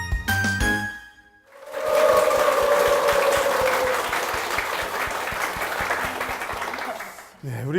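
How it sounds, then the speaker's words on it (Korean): A church congregation breaks into loud, sustained applause after a voice finishes speaking, the clapping filling the room for several seconds before fading. "우리 권사님께 다시 한번 큰 박수 부탁드립니다."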